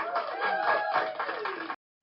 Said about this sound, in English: that's that bird calling me